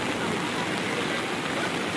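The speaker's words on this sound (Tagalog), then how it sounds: "Lakas na ulan." Heavy rain pours down at Patungan Beach in Batangas, a dense, steady hiss of falling water that fills the scene evenly and loudly.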